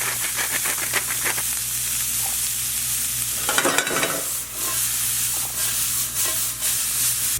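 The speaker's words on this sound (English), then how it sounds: "We got that bacon grease in the pan right there. I'm going to use that. We get the peppers and onions in there." Peppers and onions fry in bacon grease in a pan, giving a loud, steady sizzle and hiss close by, with occasional stirring scrapes and crackles throughout.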